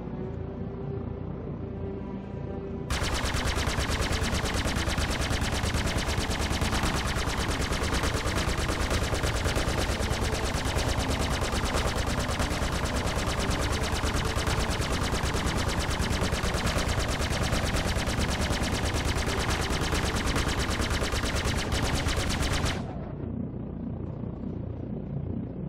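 Twin Badger repeater turret guns on an Anvil Gladiator fire in a video game, a dense, unbroken stream of rapid shots for about twenty seconds that starts and stops abruptly, with quieter engine hum before and after.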